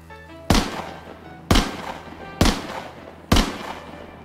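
Four loud, sharp gunshot bangs ring out on a theatre stage during a play, spaced roughly a second apart, each with a brief reverberant tail filling the hall.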